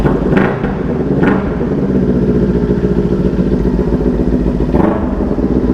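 A Kawasaki Ninja 400 motorcycle idles close by on a hot day, its engine giving a steady, loud, even rumble, with a few brief clattery bursts over the running engine.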